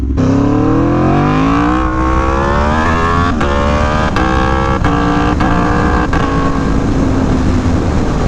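An Aprilia Tuono V4 1100 Factory motorcycle with a quick shifter, accelerating hard through several gears. The engine note climbs and rises steadily, broken by a few sharp upshift cuts, loud and close throughout with constant wind rush.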